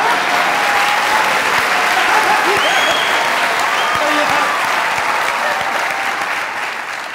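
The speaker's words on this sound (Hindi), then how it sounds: "यार आज ताली जोरदार नहीं आ रही" Audience at a live comedy talk show applauding, a sustained dense clatter of many hands lasting several seconds before tapering off, with a voice faintly heard under it.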